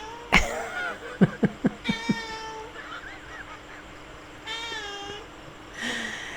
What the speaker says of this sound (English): And my cat Oscar also wants to say hi